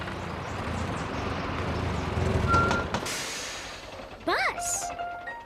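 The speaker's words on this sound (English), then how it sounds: "Here comes the bus." A cartoon bus pulls away amid a rumbling engine, then a hiss of air brakes and a short rising electronic whoop near the end, fairly close and loud with no talk over it.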